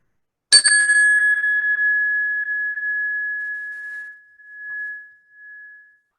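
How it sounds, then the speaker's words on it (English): One strike of a meditation bell rings out sharply, its pure tone sustaining and gently pulsing as it decays toward silence. "as you listen to the sound of the bell"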